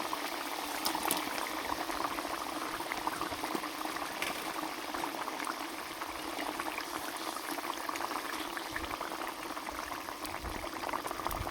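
A pot of rohu fish curry with potatoes boils steadily, its dense bubbling and simmering continuous and close throughout, with no talking.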